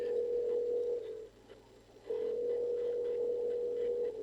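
A steady phone dial tone drones in the Saints Row video game, breaking off briefly and resuming, faint and alone.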